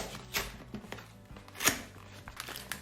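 A packet of supermarket brownie mix of chocolate powder and flour, with a smaller sachet of chocolate chips, is torn and crinkled open: a few sharp plastic rustles and rips close to the mic, otherwise quiet.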